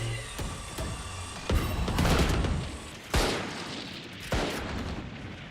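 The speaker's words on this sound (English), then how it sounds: "Shots going off left and right." Gunfire in a youth esports match of a first-person shooter, with bursts of rapid shots and several sharp loud cracks that ring out, heavy and continuous over a few seconds.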